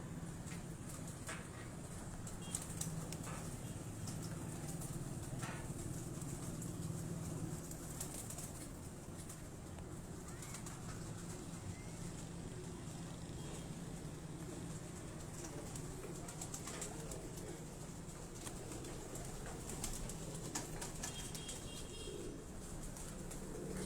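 Teddy pigeons in breeding cages coo in a continuous low, murmuring chorus, with occasional faint wing flutters and rustles over a steady background hum.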